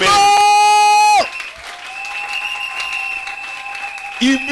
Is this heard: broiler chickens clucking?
no